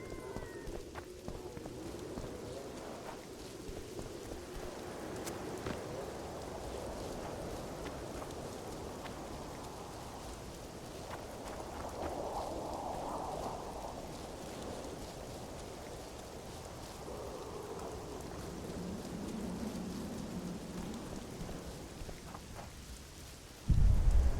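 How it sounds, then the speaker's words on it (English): Rain falls steadily in The Witcher 2, a soft constant hiss of drops on surfaces lasting throughout, with low rumbles swelling faintly at times beneath it. "The rain is not particularly helpful at this moment."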